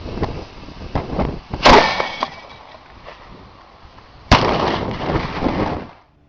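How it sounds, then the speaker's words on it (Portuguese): Two sharp, booming blasts from an 88mm cannon mounted on a homemade armed Citroën car, spaced a few seconds apart, each followed by a rumbling tail over low background noise. "um canhão de 88mm."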